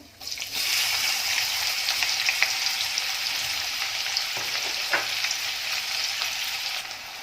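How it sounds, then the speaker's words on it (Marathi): Finely chopped onion dropped into hot oil with crackling cumin seeds for a cowpea vegetable tempering, giving a loud, steady, close sizzle that starts suddenly and keeps crackling without pause. "जिरं तडतळलेलं आहे त्याच्यामध्ये कांदा घालून घ्यायचा आहे"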